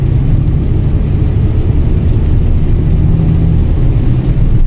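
A Kia Sorento with a 2.0 gasoline turbo engine accelerating on the road, heard as a loud, steady low engine rumble with road and cabin noise throughout, no talk.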